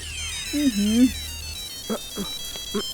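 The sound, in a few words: mobile phone ringtone ringing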